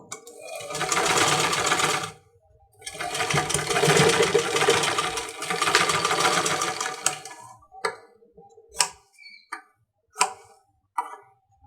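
A sewing machine stitches piping onto the neckline of a baby frock, running in two long steady whirring bursts, then stopping for a few short clicks and taps near the end.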